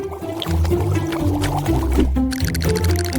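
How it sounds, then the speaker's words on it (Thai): Hot syrup is poured in a playful cake-decorating food challenge. The liquid pour sounds loud and close, with wobbling tonal gurgles that rise and fall, a brief break, and then more splashy gurgling. "จะเทน้ำหวานร้อนให้เธอจะได้อุ่นขึ้น"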